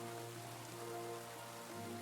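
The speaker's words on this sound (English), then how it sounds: "the rain effect's pretty cool too" Rain falls steadily in the video game Kingdom Come Deliverance, a faint, even patter over a low tonal hum, continuous through the short stretch.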